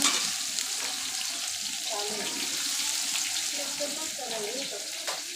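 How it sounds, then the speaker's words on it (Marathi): Thinly sliced onion goes into hot oil for chicken biryani cooked on a wood-fired stove. A continuous sizzle runs with scraping and stirring clatter, and a voice is faintly audible underneath. "इथे चांगला दोन पितळ्या कांदा चिरलेला आहे बघा तो बी मी संपूर्ण टाकून देतो"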